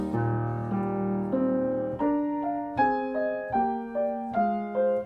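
A piano passage of sustained chords in which the damper pedal changes abruptly, so each new chord enters with a sharp break and a soft thud instead of a smooth legato join. Close and moderately loud, with no talking.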